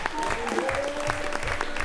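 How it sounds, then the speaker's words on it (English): Audience applause fills a Hampton school board meeting as a food service team is honored: steady, dense clapping from a roomful of people, moderately loud and continuous, with faint voices mixed in. "Let's give them another round of applause."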